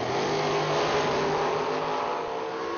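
A drag racing car accelerates hard at a drag strip event, giving a loud, sustained engine roar that holds steady and then eases slightly toward the end.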